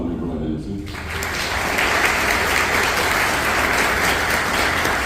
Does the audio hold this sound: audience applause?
yes